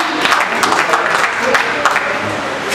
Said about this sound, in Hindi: एक बार तालियां बजा के दिखाओ आप, बिल्कुल एक बार तालियां बजा दें इन कवियों के लिए।